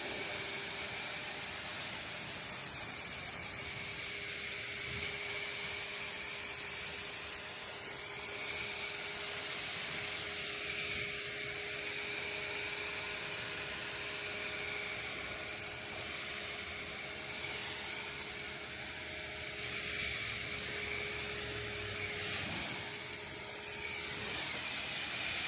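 Water spray rinsing tree sap, road film and bugs off a car, heard as a steady, even hiss that continues throughout, fairly soft and at mid distance.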